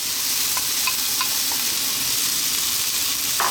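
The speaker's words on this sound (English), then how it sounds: "Now what's important is we need to fry the rice." Cold cooked rice with frozen vegetables for egg fried rice fries in a hot pan, giving a continuous bright sizzle with a few light stirring scrapes and taps along the way.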